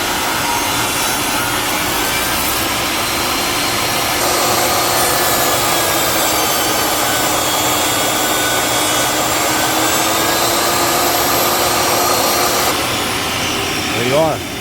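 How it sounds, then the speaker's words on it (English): A saw blade tilted to 45 degrees cuts through PVC decking, making a loud, continuous, rough whirring and grinding for about twelve seconds, then winding down, with some talk mixed in. "Next thing I'm going to do is set my blade to a 45-degree angle"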